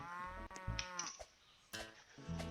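Cows in the Farming and Friends game moo several times in a row, with close, drawn-out lowing calls and short gaps between them, and no talking.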